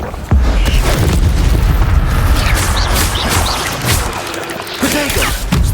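An Incendio fire spell is cast in Hogwarts Legacy, unleashing a loud, sustained burst of roaring, crackling blast with heavy low rumble, while other combat sounds churn underneath.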